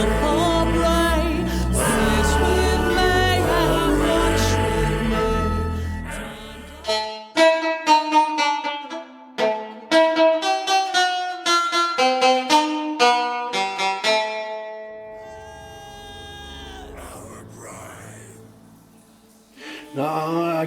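A Line 6 Variax modeling guitar plays a selected modeled tone, starting with a dense sustained chord passage and moving into plucked melodic single notes and phrases, clear and upfront with no talking.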